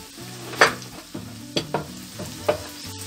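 Ingredients, likely meat, slowly sautéing in a pan while celery is prepared for a Turkish meat and celery dish with egg-lemon sauce, with soft sizzling under sharp stirring and scraping clatters recurring about every half second.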